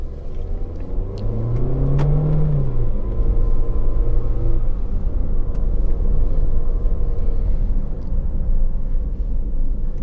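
A 2025 Tata Sierra Accomplished Plus turbo petrol automatic pulling away: the engine note rises briefly as it moves off, then settles into a steady, close rumble with road and cabin noise.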